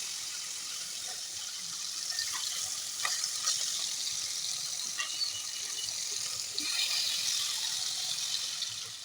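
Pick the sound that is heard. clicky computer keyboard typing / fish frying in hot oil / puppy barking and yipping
fish frying in hot oil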